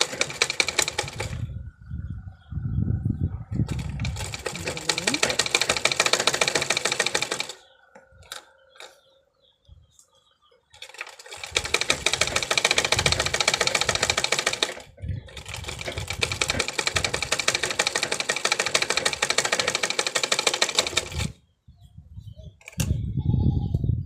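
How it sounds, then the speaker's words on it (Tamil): A sewing machine stitches a strap in two long, steady runs of rapid mechanical chatter. A short pause separates them, and the machine stops again near the end. "நாட்டு தைக்கிற அந்த பட்டியை தைச்சி முடிச்சிட்டோம்"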